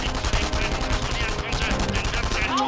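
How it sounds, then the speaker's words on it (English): Rapid automatic gunfire in the shooter video game Enemy Front, a dense continuous rattle of close shots with faint voices mixed in. "what are these assholes shooting at?"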